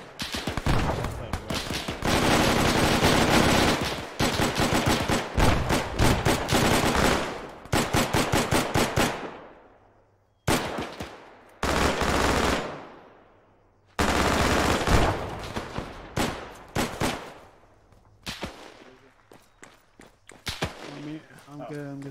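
Gunfire in a squad-based military video game firefight, loud sustained automatic bursts and rapid shots that stop and restart several times, with sharp single cracks and ringing decays in the gaps and voices talking between volleys.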